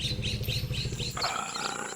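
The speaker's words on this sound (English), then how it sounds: "These lion cubs live in the grasslands of Africa." Young lion cubs in African grassland give repeated growly calls close by, then a second higher-pitched cry takes over partway through, with faint bird chirps running above the whole time.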